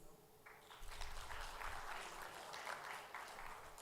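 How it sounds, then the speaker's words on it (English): A small audience at a moot court competition closing ceremony applauds steadily for a few seconds, moderately distant and fairly soft. "Can we have a round of applause for them"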